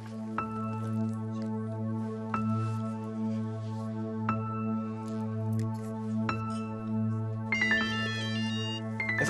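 A phone ringtone plays in repeated melodic bursts about every two seconds over a steady low hum, loud and close, with no voices.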